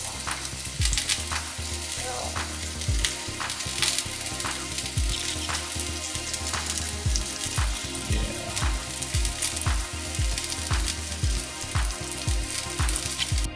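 Slices of French toast made from stale bread frying in a pan, a steady sizzle with regular rhythmic thumps from background music and a faint voice.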